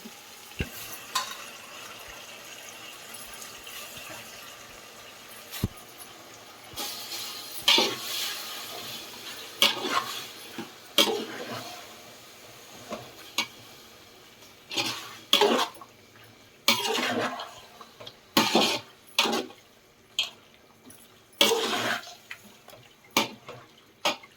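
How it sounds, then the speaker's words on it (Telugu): Tripe (boti) for a curry is stirred in hot oil in a pot: intermittent scraping knocks of a spoon against the pot come in irregular clusters over a faint, low sizzle. "బోటి వేసేసి కలిపేస్తున్నాను కదా ఒక ఇరవై నిమిషాలు నూనెల్లో బోటి ఉడకనిద్దాము"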